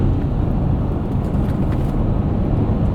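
A 2024 Toyota Tacoma TRD Off Road's turbocharged four-cylinder engine drives steadily through desert terrain with an 8-speed automatic, a continuous loud low rumble with road and wind noise filling the cabin and no talking.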